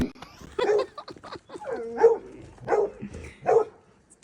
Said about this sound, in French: On veut pas de chien qui aboie.